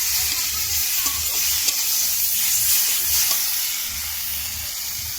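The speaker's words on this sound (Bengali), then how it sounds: "তো একটু টমেটো ছোটো ছোটো করে কাটা আছে, এখানে আমি ভালো করে কষাবো" Small-cut tomatoes frying with anguli fish in a pan, a loud, constant hissing sizzle close by with faint stirring knocks underneath and no voices.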